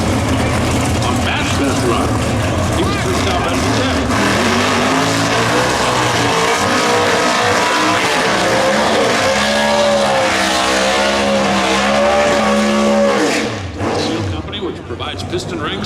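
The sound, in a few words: NHRA Pro Stock drag race cars racing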